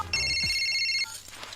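A single short electronic phone ring, a bright warbling tone lasting about a second, then quiet.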